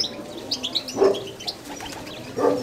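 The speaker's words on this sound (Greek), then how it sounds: "Αυτά είναι τα περιστέρια." Diving pigeons in Kozani, Greece, give soft coos and chirps, with bursts of wing flapping close by, over a light outdoor background.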